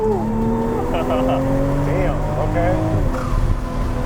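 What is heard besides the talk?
Toyota Supra blow-off valve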